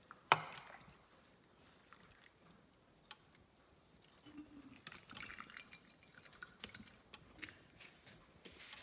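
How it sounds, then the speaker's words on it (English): Broth ladled into canning jars packed with kale: soft liquid pours and drips with light clinks and scraping, close by and faint, after a sharp knock at the start. "Make sure to get some of that broth in there too."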